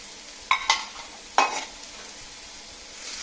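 Onions and potatoes dropped into hot oil in a frying pan, giving a few sharp bursts of sizzling as they land and are stirred, fading to a quieter simmer afterward, with no talk.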